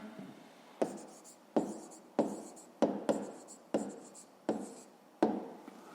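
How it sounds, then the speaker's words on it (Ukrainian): Pen or pencil writing an answer by hand on paper for a fifth-grade math exercise, a series of short scratchy strokes in an even rhythm, close and quiet. "записуємо відповідь"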